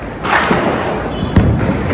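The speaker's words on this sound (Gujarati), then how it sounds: "દેવ દિવાળી છે, ફટાકડા ફૂટી રહ્યા છે બધા." Dull booming pops of Dev Diwali firecrackers burst at a distance, a few muffled thuds over a constant rumbling background.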